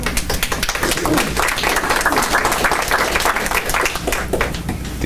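Audience applauding at a candidates forum: a steady, full-room burst of clapping from a crowd, continuous and fairly loud throughout, with no clear voices over it.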